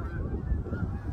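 Geese honk outdoors in a brief, continuous burst of nasal calls that overlap one another, fairly close and steady in loudness, with no one talking.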